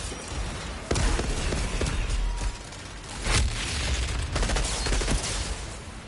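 Gunfire crackles through a battle in Outriders, with dense sharp shots and booming impacts layered over a constant roar of combat noise, several louder bursts standing out.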